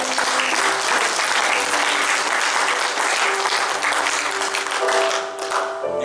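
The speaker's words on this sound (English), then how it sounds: "Give the Lord a hand clap of praise." Steady, dense applause from a large church congregation, loud and continuous throughout, with many hands clapping at once.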